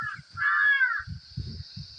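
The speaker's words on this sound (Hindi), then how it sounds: "कौवा भी बोल रहा है" Crow in a village giving one loud, drawn-out caw close by, then a quieter cluster of short rough sounds and thumps.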